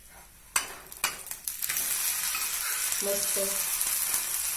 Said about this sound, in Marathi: आता आपण तो उलटवून घेऊन दुसऱ्या बाजूने पण थोडासा भाजून घेऊया.